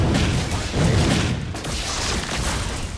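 Fire-rain skill explosions in a mobile battle arena game: dense, loud booming blasts rolling continuously over about three seconds, with no clear gaps between the impacts.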